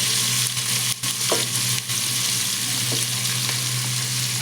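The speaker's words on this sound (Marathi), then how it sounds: "आता कांदा आणि हे फोडणीमध्ये आपण व्यवस्थित असं परतून घेऊया।" Steady, dense sizzling of onions frying in a hot oil tempering, loud and close, with a few faint stirring scrapes.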